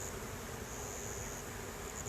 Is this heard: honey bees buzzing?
yes